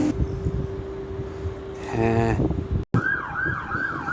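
An ambulance siren wails with a rising and falling tone along a Dublin street, loud and fairly near over steady traffic rumble, cutting in after a brief tonal burst and a moment of dropout.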